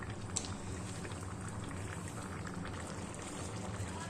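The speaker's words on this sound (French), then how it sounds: "on va laisser cuire tranquillement, mijoter, à feu doux" Beef bourguignon simmering gently over low heat in a pot, a steady soft bubbling and faint liquid churn held at a constant level throughout, with no talking.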